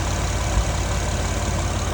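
A car engine idles steadily, its exhaust giving a low, even rumble that holds constant throughout with no other sounds.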